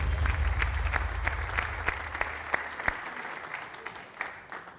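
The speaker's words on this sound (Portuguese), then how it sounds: "Um aplauso para o Celestino, muito bem." Studio audience on the TV game show The Floor applauding, dense sustained clapping from many hands with a few sharp claps and a low hum beneath, fading slightly toward the end.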